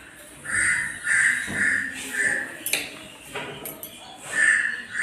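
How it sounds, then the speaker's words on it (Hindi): A recorded crow cawing is played aloud for a group of children in a classroom game, with repeated harsh caws spaced across the clip and some faint background voices. "हाँ कौवे की आवाज़ थी"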